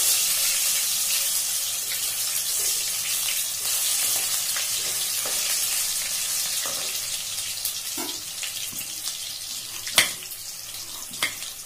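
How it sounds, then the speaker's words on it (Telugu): Potato pieces frying in oil for an aloo matar curry give a steady, fairly loud hiss with crackling throughout, plus a few sharp clicks near the end like a utensil touching the pan. "ఆలూ ఆయిల్లో ఫ్రై చేస్తామండి."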